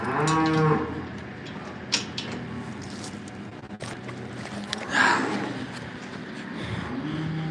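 A cow moos loudly in a calving barn where a day-old calf is kept, one long low call at the start and another around the five-second mark, with barn noise and movement between.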